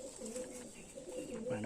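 Pigeons kept as racing birds, one-year-old breeding pairs, cooing softly and continuously at close range while a person talks over them.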